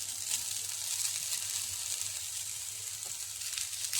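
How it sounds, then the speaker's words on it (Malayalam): Ripe banana and grated coconut are stir-fried in a pan for a Kerala sweet, giving a continuous, even sizzle heard up close, with no talk. "എന്നിട്ട് ഇതും കൂടി ഒന്ന് വഴറ്റി കൊടുക്കാം."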